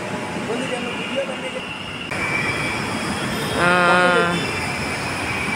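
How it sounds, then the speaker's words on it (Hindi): A metro train pulls into an underwater metro station platform, a steady rumbling roll with a rising tonal squeal of wheels and brakes as it arrives, fairly loud and close. "और ये देखिए ट्रेन आया है"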